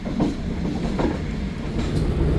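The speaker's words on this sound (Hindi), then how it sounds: "7:55 पर पतोकी रेलवे स्टेशन पहुंची है ट्रेन।" The 16 Down Karachi Express arriving at Pattoki railway station at 7:55, a loud close rumble with rhythmic clickety-clack of wheels over rail joints, steady throughout with no voices.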